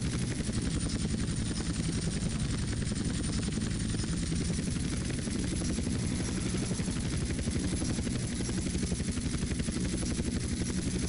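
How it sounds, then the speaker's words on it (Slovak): Steady, loud helicopter rotor and engine drone from GTA San Andreas multiplayer, a continuous dense thrum with rhythmic chopping that runs unbroken for the whole stretch, no voices over it. "Ja si hovorím, že konečne už mám helikoptéru."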